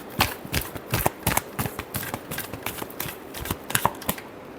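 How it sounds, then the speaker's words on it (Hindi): Tarot cards are shuffled by hand in a rapid run of soft papery riffles and taps, close and steady with no talking. "last shuffle"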